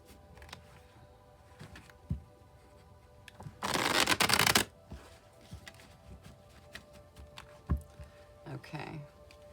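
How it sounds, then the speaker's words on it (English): A deck of tarot cards gets shuffled in one short, dense riffling burst of about a second midway, with scattered soft taps and thumps of card handling around it in an otherwise quiet room. "I'll shuffle till I feel like it's ready"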